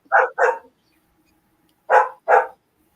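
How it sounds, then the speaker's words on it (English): A big old female dog barks four times, in two quick pairs separated by a short pause, loud and close, with no voices in between. "That dog, I love her dearly, but that big old beast, she's not barking again"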